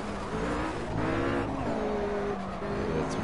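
A racing car in the Project Cars video game on PS4 accelerating and driving hard, with a loud sustained engine drone, shifting revs and tire noise, close and continuous.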